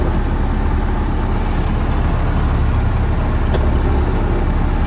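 An MTZ tractor engine rumbles loudly and steadily while pulling away during ploughing, a dense low drone throughout.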